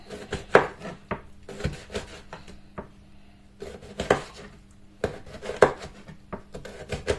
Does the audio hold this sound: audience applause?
no